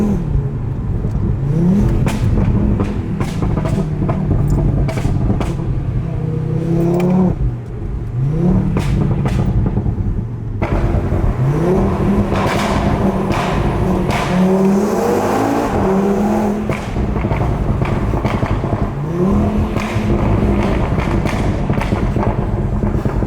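A hybrid turbo Audi RS3 with 650bhp accelerates hard and close, its engine repeatedly revving and rising in pitch through gear changes with sharp pops, loud and sustained with no talk over it.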